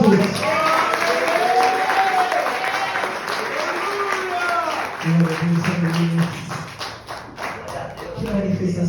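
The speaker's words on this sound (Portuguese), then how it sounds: "Uma salva de palmas para Jesus." A church congregation claps during a family worship service, with dense applause mixed with voices, shouting and music.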